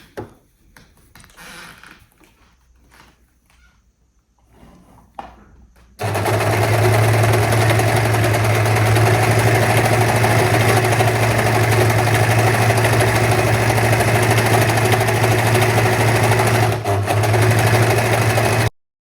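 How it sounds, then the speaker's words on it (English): A normal serger finishes the seams of sewn shorts, running steadily and loudly for about twelve seconds with an even mechanical whir and hum, then stopping abruptly; quiet handling noises come before it starts. "I do it with a normal serger, but you can also do it with a normal sewing machine with zigzag stitch."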